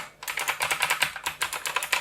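Clicky Outemu Blue switches on a Liocat KX3 mechanical keyboard, typed in a fast, steady stream of sharp, close keystrokes with short pauses, no voices.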